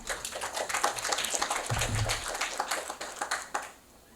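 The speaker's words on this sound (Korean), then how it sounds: "큰 박수로 맞이해 주시면 감사하겠습니다." Audience applause at the opening ceremony of the 2023 Yellow Sea Peace Forum in Incheon welcomes the opening speaker, a steady patter of many hands for several seconds before fading out.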